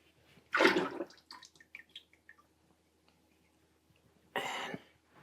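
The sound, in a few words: pottery glaze poured in, swirled and poured out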